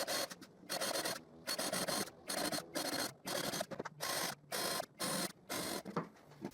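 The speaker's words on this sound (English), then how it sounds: "I countersink the other holes in the back of the boards" Countersinking holes in pallet wood boards, with rhythmic bursts of rasping, grinding drill sound, each lasting under a second and separated by brief pauses, repeated about ten times close by.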